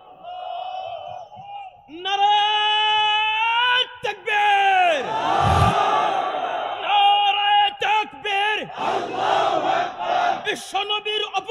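A large crowd at a rally roars a takbir battle cry in loud, sustained unison shouts, rising and falling in waves, with a leader's voice calling out between the bursts.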